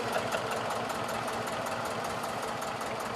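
A fishing boat engine on a small crowded wooden boat in the Bay of Bengal, Bangladesh, runs steadily, a close and continuous mechanical drone with a fast knocking pulse throughout and no talk.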